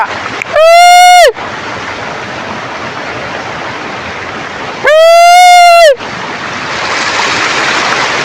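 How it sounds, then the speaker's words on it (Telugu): A steady rushing roar of falling water fills the clip, cut twice by loud, high tonal bursts lasting about a second each. "ఏమొస్తున్నాయి చూడండి వాటర్ ఫాల్స్ బా సూపర్"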